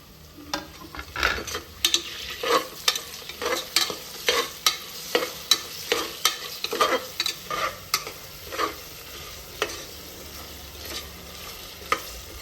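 Green chillies and mint leaves fry with ginger-garlic paste in a pan for mutton biryani, a spoon scraping in quick rhythmic strokes over a soft, steady sizzle.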